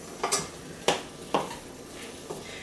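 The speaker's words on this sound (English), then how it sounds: "And then I'm going to stir that in." Cinnamon being stirred into oatmeal in a pot, four or five quick spoon scrapes and clinks against the side, close and fairly crisp with no voices.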